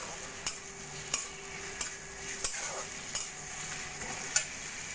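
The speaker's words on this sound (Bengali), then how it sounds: "দিয়ে দেবো পরিমাণ মতো নুন, হলুদ আর অল্প করে কাশ্মীরি লঙ্কার গুঁড়ো দিয়ে মশলাটা ভালো করে কষিয়ে নেব।" Onion masala with ginger garlic paste, salt, turmeric and Kashmiri chili powder fries in a pan, giving a steady soft sizzle punctuated by regular scraping clicks of a spatula stirring, close and fairly quiet with no voices.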